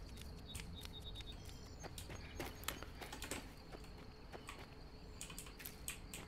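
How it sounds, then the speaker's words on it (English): A computer keyboard clicks in quick, irregular taps during a Skyrim playthrough, the sharp keystrokes layered over a steady wash of outdoor game ambience. "Hopefully my keyboard's not overly click-clacky."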